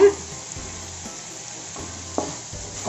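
Masala for prawn Maggi sizzles steadily as it's sautéed in a pan, with soft scraping stirs recurring every second or so, close and moderately quiet, no voices.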